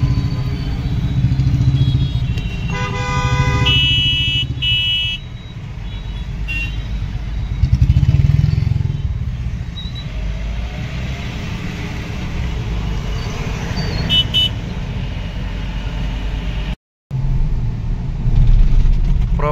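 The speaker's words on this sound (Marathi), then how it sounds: "काय भयानक ट्रॅफिक असते बाबा संध्याकाळच्याला." Heavy evening traffic on a road, car and motorbike engines rumbling close by with clattering and several short horn honks cutting through, continuous and loud.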